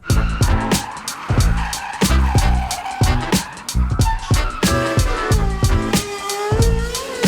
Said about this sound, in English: That's a very expensive drift car.